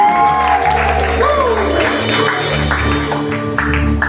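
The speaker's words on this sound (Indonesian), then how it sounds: "Tepuk tangan dulu." A church congregation applauds during a Christmas service that also marks the church's eighth anniversary, clapping and a few shouts mixed with loud sustained keyboard music.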